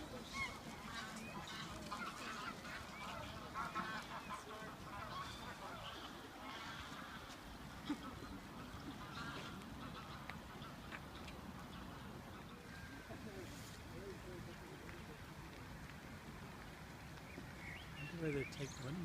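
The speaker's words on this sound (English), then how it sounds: "Here's our nesting goose and hubby" A nesting goose and its mate honk at intervals outdoors, fairly distant and faint, with voices talking over much of it.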